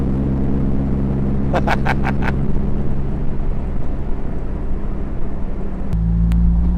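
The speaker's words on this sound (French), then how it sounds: "Wow, la sonorité de l'échappement" A green 2017 Morgan Plus 4 sports car on a country road, its exhaust giving a loud, steady low drone with a brief ticking burst partway through and a shift in the engine note near the end.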